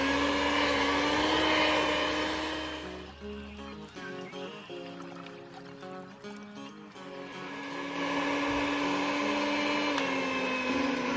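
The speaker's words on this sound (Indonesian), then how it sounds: "Lalu kita mixer lagi sampai benar-benar kalis ini ya adonan untuk kue bakpaunya." An electric mixer kneads bakpao dough, making a loud steady whirring motor drone that fades for a few seconds while a tune plays, then returns at full strength. No one speaks.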